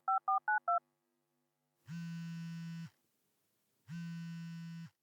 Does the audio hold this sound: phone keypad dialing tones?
yes